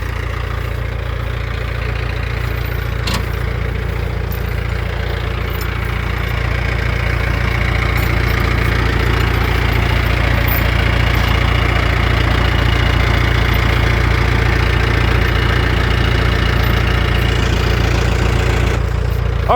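A Mahindra 6025 tractor engine idles for a sustained stretch, a loud, steady low diesel rumble with a faint knocking texture, close by and with no talk over it.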